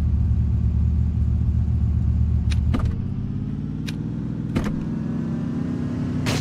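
Car engine from the Dead Matter video game drives steadily, a loud continuous low hum and rumble that drops slightly partway through, with a few brief sharp clicks and thuds over it.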